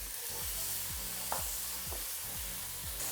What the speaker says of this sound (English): Next, we're going to add our tomato strips right into the pan.